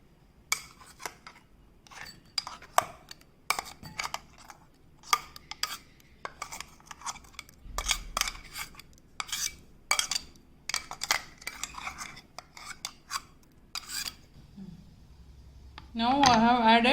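Ground paste is mixed into curd in a bowl for a tambuli side dish, a series of close scraping and clinking spoon-on-bowl strokes in irregular rhythm, ending with a louder burst of noise.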